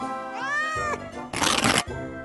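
A cat meows twice, a rising and falling cry near the start followed by a harsher, noisier call, with a short bit of voice at the end.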